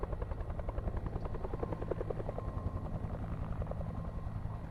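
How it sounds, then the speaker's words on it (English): A helicopter from the video game Alpha Polaris passes overhead with a steady, rhythmic rotor thump and engine drone, fairly loud and continuous throughout, with no talking. "Sounds like a chopper."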